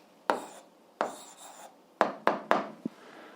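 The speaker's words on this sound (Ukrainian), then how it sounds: "Пишемо відповідь." Someone writes an answer by hand while working through an 8th-grade algebra exercise, making several short, scratchy strokes in uneven bursts. The sound is close and fairly quiet, with no talking.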